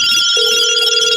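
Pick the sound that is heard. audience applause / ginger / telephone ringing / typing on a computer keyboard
telephone ringing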